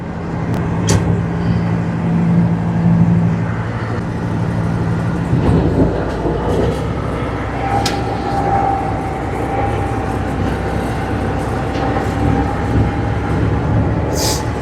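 A Kirovets tractor pulls away, its heavy diesel engine rumbling loud and close with a rising hum as it gathers speed, plus occasional clanks.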